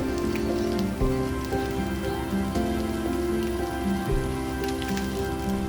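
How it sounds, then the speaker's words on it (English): Oxtail pieces sizzle and crackle in a hot pan as they fry golden brown, a steady close spattering hiss with occasional soft clunks. "you can pan fry until golden brown and the oxtail becomes slightly crusty"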